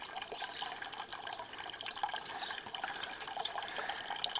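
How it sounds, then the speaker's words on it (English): Water trickling through a Millbank bag filter into a container outdoors, a faint, continuous patter of drips and fine splashing without speech. "once the water is filtered down from the top to the black line"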